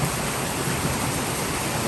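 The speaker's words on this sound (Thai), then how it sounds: "ฝนตกหนักมาก ๆ เลย" Heavy rain pours hard and steadily in front of a house on a flooding street on an October evening in Thailand, a loud, unbroken hiss with no pauses.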